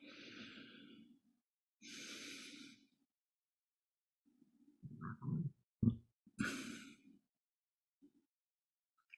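Deep, slow breaths drawn in and let out during a breathing exercise, several long airy inhales and exhales with pauses between them, close and fairly quiet, ending with a few softer puffs and gasps.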